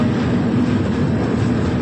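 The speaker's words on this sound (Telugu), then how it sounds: "Legendary train Falcon express." The Falaknuma Express passes close by as a steady, loud rushing rumble of rail noise with no break through the short stretch.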